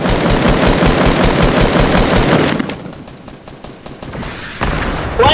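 Gunfire in Fortnite: loud, dense automatic fire for the first half, then thinning into scattered sharper shots and a renewed loud burst near the end.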